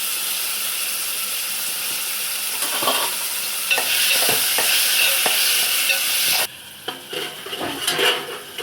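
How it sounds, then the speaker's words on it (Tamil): Onions and tomatoes sautéing in a pan while cooking a South Indian appalam kuzhambu: a steady close sizzle with scraping stirring strokes and occasional spoon-on-pan knocks, no talking. "தக்காளி நல்லா வதங்கிட்டு இருக்குது."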